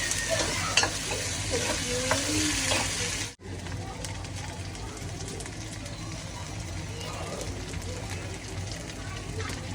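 Mustard seeds, cumin, onion and green chili frying in hot oil in a home kitchen, a steady loud sizzle with stirring scrapes, briefly cut off midway then resuming, with a voice talking over it.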